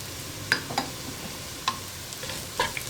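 Coriander and ordinary chili powder being stirred in a pan over a low flame for onion sambar: a few soft scraping strokes with faint sizzle, close and quiet, no voices.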